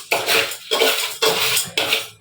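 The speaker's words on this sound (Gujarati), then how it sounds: "આ બાર તપેલું પડી ગયું" A metal cooking pot falls and clatters, giving four loud, ringing metallic crashes in quick succession, close and with no voices.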